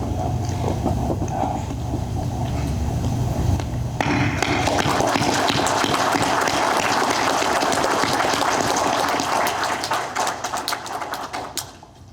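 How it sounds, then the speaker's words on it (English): Audience applause at a Masonic lodge's 120th officer installation ceremony: a sustained, dense clatter of many hands clapping in a hall that swells after a few seconds, holds steady, then tapers off near the end. "Good job on the applause, everybody"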